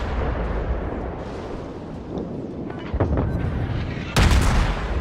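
Naval artillery shells land in World of Warships with heavy, rumbling booms, the loudest hitting near the end over constant battle noise, and a voice may be faintly present underneath.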